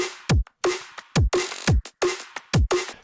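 A programmed drum and bass drum pattern plays: punchy kicks with pitch-dropping booms, sharp snares, layered claps and percussion hits in a fast syncopated groove, loud and close with no voices.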